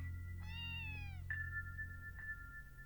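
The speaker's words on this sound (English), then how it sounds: "Kope, the cat." Kope the cat from the Trails to Azure video game meows twice, a long drawn-out call followed by a shorter one, over a steady low background hum of game music.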